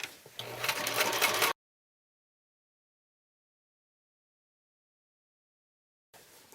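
A sewing machine stitches in fast, steady rapid-fire chatter during free-motion quilting off the edge of the fabric, then cuts out into a long silence before starting again.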